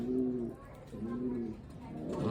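A Taiwanese racing pigeon coos close by in a few soft, rolling phrases, pausing briefly between each, with low background noise.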